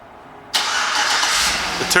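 A 2009 Chevrolet Suburban LT engine fires up via remote start after a brief quiet moment, catching sharply and settling into a steady, close idle.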